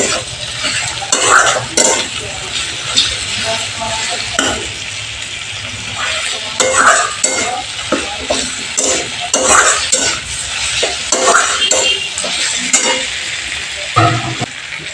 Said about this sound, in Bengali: আমি এখানে 2 চামচ জিরে গুঁড়ো অ্যাড করে দিচ্ছি। ভালো করে নেড়ে নিচ্ছি আবার।